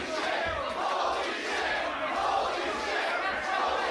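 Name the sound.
pro wrestling crowd cheering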